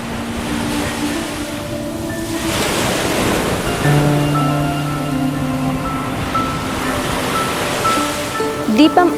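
Ocean waves roll in and wash out continuously at the shore, a broad loud surf rush with a swelling rhythm and a faint steady tone in the background.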